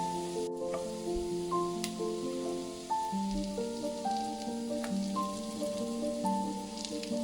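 Steady sizzling and crackling of stuffed okra dropped into hot oil tempering with curry leaves, continuous and fairly close, with faint tonal hum layered over it.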